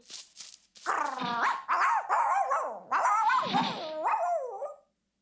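A cartoon dog barks and yips in a quick run of high, bright, bouncy calls, close and clear, with a short bit of other sound just before.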